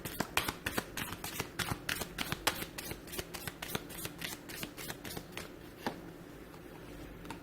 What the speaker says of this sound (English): shall we give the angel cards a shuffle